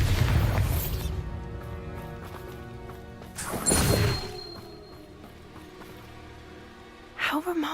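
Bombarda spell blast in the video game Hogwarts Legacy, two loud booming crashes a few seconds apart, the first opening the clip and the second thudding and rumbling before fading, with a voice speaking in between.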